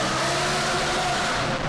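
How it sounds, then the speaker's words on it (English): An Audi R8 fitted with a catback F1 exhaust revs with a loud, sustained engine roar, heard close and alone in a short burst. "This might be the world's best sounding Audi R8."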